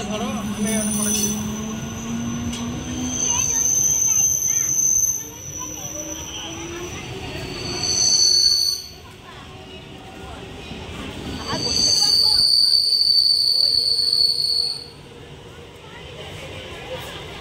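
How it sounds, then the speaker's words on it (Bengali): A train pulls into a station with loud metallic wheel squeals rising in long bursts over a steady rumble, while people talk nearby. "এদিক থেকে একটা ট্রেন আসবে"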